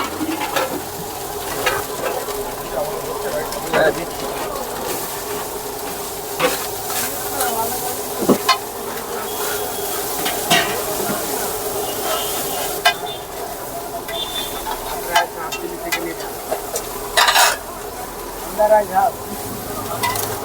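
Rice being stirred and fried at a Bengali fast food stall, a steady sizzle with scraping stir strokes and occasional clinks, close and continuous, with faint background voices.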